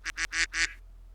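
A person imitates a duck with four loud, nasal quacks in quick succession, close to the microphone, then silence.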